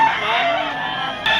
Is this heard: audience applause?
no